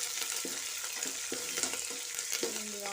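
Onions and curry leaves fry in oil while being stirred, giving a continuous close sizzle with light scraping and clinking from the stirring.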